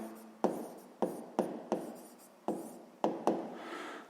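Pen strokes on paper while a math solution is written down, a series of about eight sharp taps each trailing into a short scratchy rub, close and quiet with no speech.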